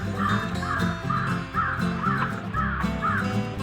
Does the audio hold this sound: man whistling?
no